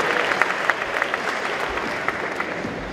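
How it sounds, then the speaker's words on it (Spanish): Sustained, dense applause from a large audience at a Christian ministries expo, steady and fairly loud throughout as the crowd welcomes a pastor onto the stage. "Por favor, recibámosle con un fuerte y caluroso aplauso."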